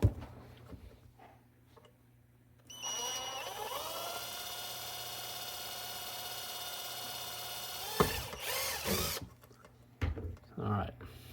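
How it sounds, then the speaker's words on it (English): A power drill bores a hole in a wooden pinball playfield during a Bally KISS pinball restoration: a steady whining motor hum for several seconds, then a few short bursts of grinding and clatter, with quiet background noise at the start. "I'm gonna drill a hole in on the,"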